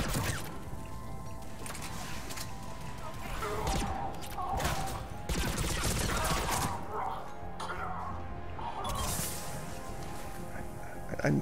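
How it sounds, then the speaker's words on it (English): Assault rifle blind-fired in a Mass Effect 3 firefight on Omega, a dense, steady wash of bursts and impacts running throughout at moderate level, mixed with game effects and battle noise. "I'm just blind firing here."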